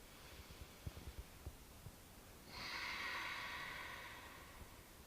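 Quiet, steady breaths during a yoga forward fold, a soft airy exhale swelling gently for a couple of seconds over a low background hum with faint thumps.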